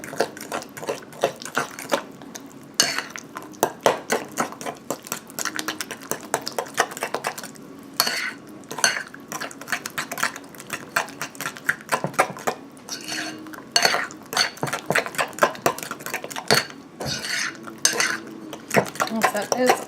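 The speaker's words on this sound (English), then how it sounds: "stir that all together" A spoon stirs wet batter ingredients together in a bowl, setting off a fast, continuous run of clinks and scrapes against the bowl, close and busy.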